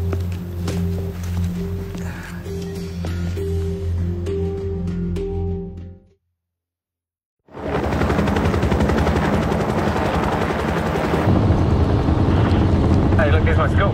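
A helicopter in flight gives a steady, loud rotor drone with a pulsing beat. The sound cuts to near silence for about a second, then returns as a louder, rougher roar, as if heard from inside the cabin.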